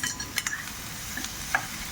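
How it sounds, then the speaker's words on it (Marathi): Bottle gourd pieces are sautéed in a hot tempering, a soft steady sizzle with light scraping stir strokes and a few clinks of a spoon against the pan. "दुधी भोपळा घेतलेला तो या फोडणीमध्ये परतून घ्यायचा आहे बघा."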